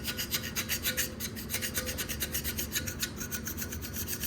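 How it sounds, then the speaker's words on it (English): A scraper is pushed in quick, rhythmic strokes over the rusty surface of a 5.9 Cummins cylinder head, giving a close, steady rasping scrape with no talk. "You can take that rust off real fast, but with this scraper"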